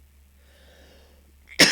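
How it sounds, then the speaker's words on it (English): A person with a cold lets out one sudden, harsh cough or sneeze-like burst after a moment of quiet breathing, close and loud. "I really apologise for this horrible coughing and cold stuff."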